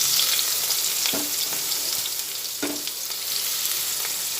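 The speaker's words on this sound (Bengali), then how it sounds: "কড়াইতে তেল দিয়ে তেলটা গরম বসিয়ে দিয়ে আমি এখানে পেঁয়াজ কুচানো দিয়ে দিলাম" Chopped onion frying in hot oil in a wok, a close, steady sizzle with a couple of brief stirring scrapes, loud and continuous without any talking.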